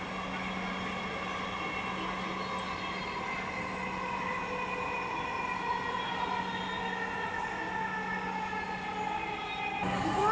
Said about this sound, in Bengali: This train is bound for Uttaranoor. Next station is Kakipara.